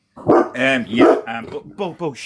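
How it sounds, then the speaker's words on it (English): A dog barks loudly and close by, five or six sharp barks in an uneven burst, heard over a voice call. "Sorry, that's my dog barking."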